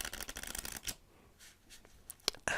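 A deck of playing cards being cut and shuffled up close in a quiet room, with a rapid burst of crisp riffling followed by a few softer handling taps and a final sharp snap.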